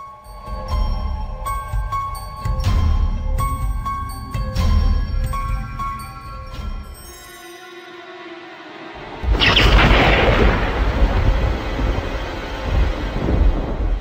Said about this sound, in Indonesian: Pada suatu malam terjadi lagi sebuah badai petir menyambar-nyambar